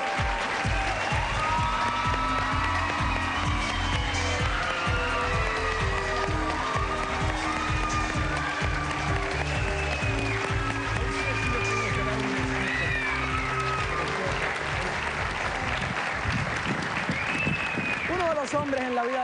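Studio audience on a talk show applauds to welcome a guest, a long steady wash of clapping heard under music and a host's voice.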